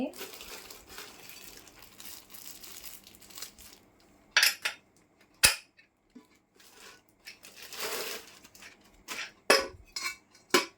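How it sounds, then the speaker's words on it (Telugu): An old-model aluminium Ganga pressure cooker is handled in a shop, giving sharp metallic clinks and knocks in scattered bursts over a quiet background with some murmured talk. "అల్యూమినియందండి కుక్కర్ అయితే ఇలా ఉంటుంది. ఓల్డ్ మోడల్ కుక్కర్ టైప్ అండి."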